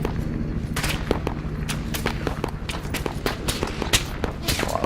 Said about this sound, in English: A lot of fire here.